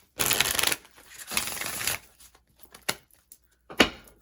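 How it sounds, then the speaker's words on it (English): Tarot cards are riffle-shuffled in two quick bursts, followed by a few soft taps and clicks as the deck is squared up. "I feel like I need to shuffle one more time."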